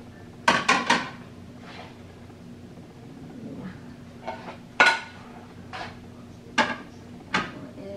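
Large dishes and pans are put away in a kitchen, with several loud ceramic and metal clanks and clatters in short bursts separated by quiet pauses.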